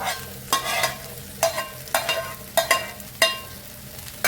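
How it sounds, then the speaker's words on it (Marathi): Egg fried rice with crumbled fried egg stirred in a pan, a spatula scraping in six or seven distinct strokes over a steady background sizzle, close and fairly loud. "मिक्स करून घेऊया हे सगळ्या भातात लागेल आपल्या"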